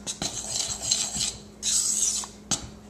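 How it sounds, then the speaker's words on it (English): Baby powder mixed with drops of essential oil is stirred in a container, with close, gritty scraping strokes in short bursts and a sharp clink near the end. "Stir, stir, stir."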